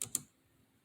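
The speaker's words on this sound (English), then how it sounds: "Let me see if I could type in wheat" Two quick keystrokes on a computer keyboard, close and crisp clicks in rapid succession, followed by quiet.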